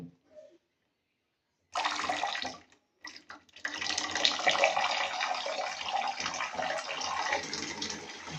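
Water running from the tap of an instant hot water geyser, first a short burst, then a brief stop, then a steady, fairly loud gushing stream that continues to the end.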